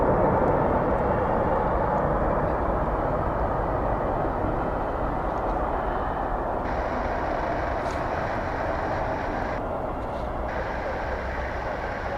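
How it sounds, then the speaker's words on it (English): An American Airlines 737-800 landing at DFW Airport, heard as a steady, loud broadband jet roar that holds for the whole stretch with a faint high whine over it. "Next in line for landing is American flight 1067."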